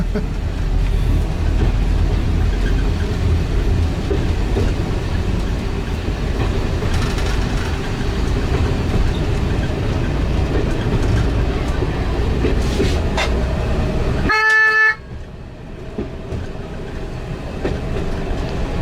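A West Somerset Railway diesel railcar runs between Blue Anchor and Minehead with a loud continuous rumble and rattle of wheels, ending in a short tonal horn-like whine as the noise drops.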